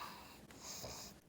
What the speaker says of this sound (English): if you guys hear some weird snorting or snoring in the background, it is my pug Chloe.